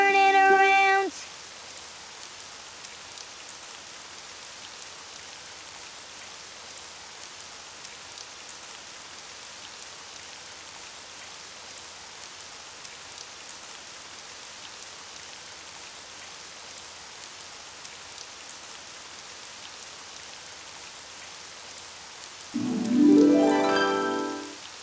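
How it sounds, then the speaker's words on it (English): Steady rain falls outside in an animated children's cartoon, a soft continuous patter filling the scene, with brief bits of voice and music at the start and end. "Oh, it's raining outside."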